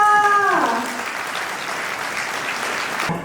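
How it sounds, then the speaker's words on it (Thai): Loud applause from a crowd at a company party, steady clapping that carries on throughout, with a brief tonal sound at the start fading out. "ขอเสียงปรบมือต้อนรับทุกท่านค่ะ"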